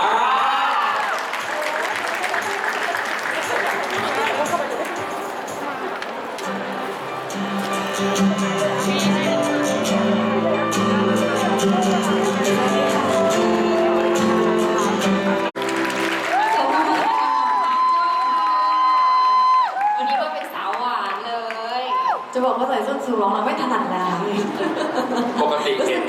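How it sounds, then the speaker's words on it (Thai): Audience at a photo exhibition event applauds and cheers to welcome a guest, with chuckles and whoops, while a speaker talks over the crowd and background music plays. "ขอเสียงปรบมือดังๆต้อนรับน้องพันปอระกาศครับ"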